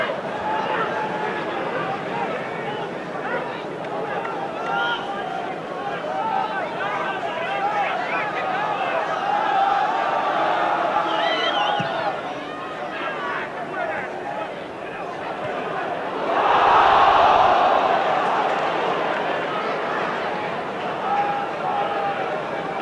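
Large football crowd of 14,465 at Ewood Park for an FA Cup third-round match between Blackburn Rovers and Aston Villa, a steady roar of chatter and noise with a louder surge near the end, under continuous commentary.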